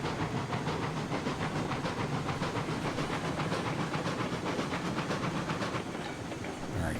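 Locomotive in the Railroads Online video game running steadily, a continuous rumbling hiss with rapid rhythmic chuffing or clatter and a wind ambience layered over it, holding at a constant level before easing slightly near the end.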